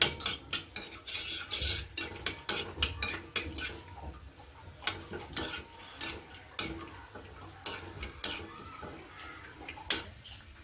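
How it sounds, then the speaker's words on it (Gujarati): Dry fruits being roasted in hot ghee for carrot halwa, with a spoon or spatula repeatedly clinking and scraping against a metal pan in quick irregular strokes, close and clear with a faint sizzle beneath. "હવે તેમાં આપણે ડ્રાયફ્રૂટ શેકી લઈશું."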